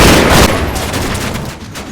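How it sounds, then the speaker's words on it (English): Dense machine gun fire from the WWII video game Combat Mission: Final Blitzkrieg, loud and continuous bursts rattling without a break, with booming reports mixed in under a constant roar. "my scout teams at the house come under additional machine gun fire"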